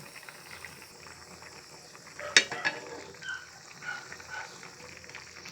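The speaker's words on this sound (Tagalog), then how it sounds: "Haluin natin." Ube bilo-bilo, a Filipino dessert of glutinous rice balls, bubbles in a cooking pot as it is stirred, with a soft simmer, a few clinking scrapes of the spoon near the middle, and faint voices.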